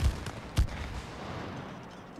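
Gunshots in the video game It Takes Two, with two quick, punchy bangs close together at the start followed by a low, fading ambient wash.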